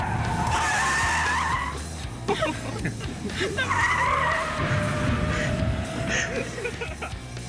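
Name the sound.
car skidding out of control, simulated skid on training car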